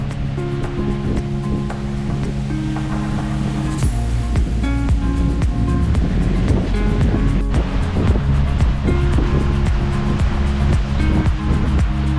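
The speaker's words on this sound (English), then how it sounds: "just the sound of the water washing past the hull." Steady wash and slosh of water against the hull of a Lagoon 450 catamaran with motors off, continuous and close, with wind buffeting and low rumbling underneath.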